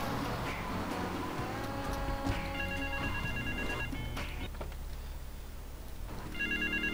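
A telephone rings in Grand Theft Auto 3, its electronic tones repeating in short bursts over a low steady background hum, fairly faint and with no talk over it.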